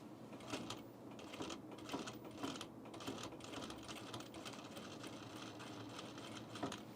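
An industrial sewing machine stitches a flat felled seam slowly, one stitch at a time, giving faint rhythmic mechanical ticks over a low steady motor hum, with no talking.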